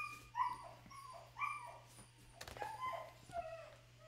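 A puppy indoors gives a run of short high whimpers and yelps with a few small barks, fairly faint and scattered over a low steady hum, with no talk.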